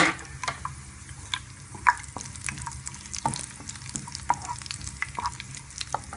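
Onions and cashews fry in a pan with a close, crackling sizzle, while a spoon stirs them with irregular soft scrapes and sharp little clicks against the metal; no voices.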